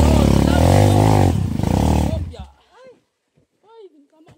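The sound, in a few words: motorcycle jumping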